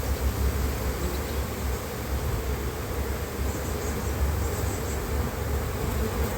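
Young honeybees swarm over a hive frame during a beekeeper's pre-winter colony inspection, producing a dense, steady buzzing drone that stays even and close throughout, with no talking heard.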